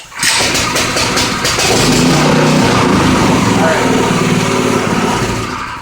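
A Predator 212cc 6.5hp small gasoline engine sputters, catches and runs loud and close, a buzzing, steady idle that tapers off slightly at the end.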